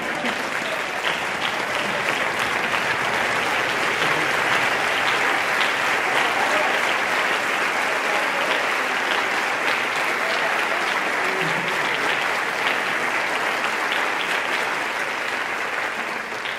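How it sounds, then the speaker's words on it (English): A standing ovation at a high school alumni concert: dense, steady clapping from a large crowd, loud and unbroken for the whole stretch, with faint cheers mixed in. "Can we get standing ovation number 2?"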